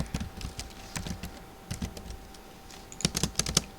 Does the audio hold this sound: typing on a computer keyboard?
yes